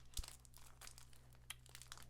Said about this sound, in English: Me trying to open a plastic bag